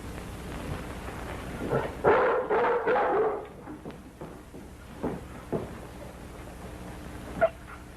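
A dog barks in a short cluster of loud, close calls over a crackly, rumbling background, then a few fainter, scattered yelps follow.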